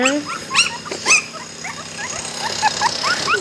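Several young puppies cry with high, wavering whimpers and squeaky yips, close and overlapping in quick succession while being fed. Someone talks over them.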